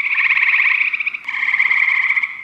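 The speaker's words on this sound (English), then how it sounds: "the eastern gray tree frogs," Eastern gray tree frog giving its spring mating call: a steady, loud, close musical trill that runs the whole time with one short break near the middle, alone with no talking.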